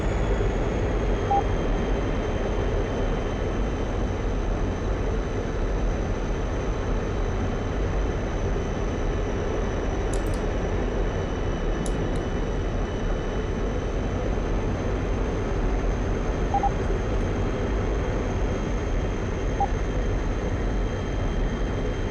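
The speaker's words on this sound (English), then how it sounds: "Just something about the aircraft sounds wrong for some reason." A steady, droning jet engine roar from a combat aircraft in a flight combat simulator, constant and loud with a thin high whine above it, no voices.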